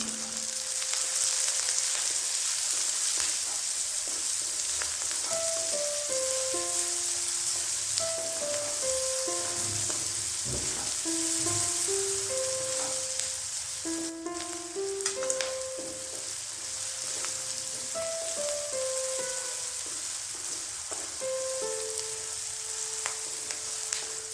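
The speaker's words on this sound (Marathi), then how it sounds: "हे सर्व जिन्नस आपल्याला 1 ते 2 मिनिटं परतून घ्यायचं आहे." Peanuts, garam masala and other spices sauté in a hot pan with a dense, steady sizzle throughout, while a tonal melody plays over it; no speech is heard.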